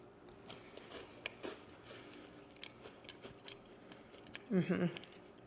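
A crispy yet chewy fall spice cookie is bitten and chewed close to the mic in a quiet room, with faint crunches and one louder burst of crunching near the end.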